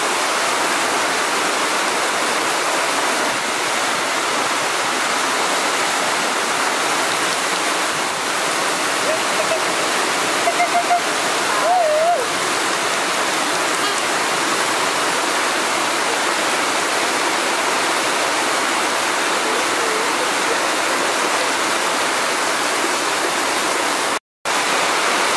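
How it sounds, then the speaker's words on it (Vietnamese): Heavy rain pours steadily by a river, a loud, unbroken hiss that holds for the whole stretch, with a faint voice briefly audible beneath it about midway. "Cơn mưa kéo dài giống được 2 tiếng rồi"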